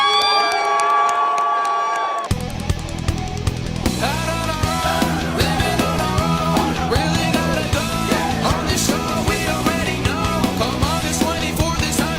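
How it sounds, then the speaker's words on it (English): An audience cheers and whoops for Sean Evans, loud crowd shouting and yells over pounding music with a steady beat, the noise carrying on continuously after a brief tonal intro. "I need y'all to clap it up for Mr. Sean Evans!"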